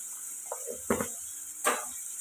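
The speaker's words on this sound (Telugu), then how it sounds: "ఇవి ఉల్లిపాయలు బాగా మగ్గాలండి ఫ్రై అవ్వాలి" Onions frying in a pan with a little salt for an egg curry: a steady faint sizzle throughout, broken by a few soft stirring scrapes and clatters near the pan, without talk.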